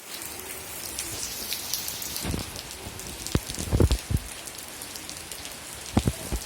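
Steady rain falls on the roof of a homemade plant shelf for succulents, a dense continuous patter punctuated by heavier individual drops.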